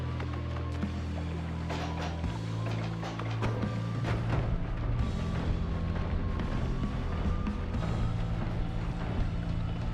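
Explosions in the video game Noita rumble and crack continuously, with dense overlapping bursts and booms that build in intensity over about ten seconds.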